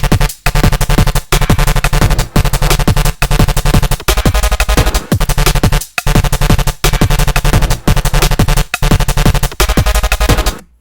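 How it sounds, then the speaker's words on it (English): A sharp, aggressive drum and bass synth arpeggio called Sharp Fury made in Serum 2, loud rapid repeating notes over a heavy pulsing low end, cut by short rhythmic gaps in a driving loop. "I've got a cool ARP sound that I've made"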